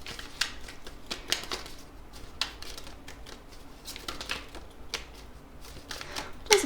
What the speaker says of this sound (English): so let's keep shuffling.